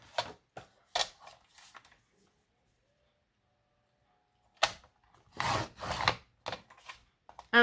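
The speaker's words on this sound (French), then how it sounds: "Alors, je fais aller-retour, mais ma lame ne coupe que d'un côté." A blade is drawn back and forth across a cutting mat while cutting mat board, making several short rasping scrapes in two close bursts separated by a silent pause.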